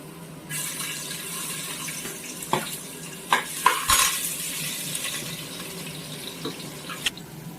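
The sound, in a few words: chopped onions added to oil in pan, stirred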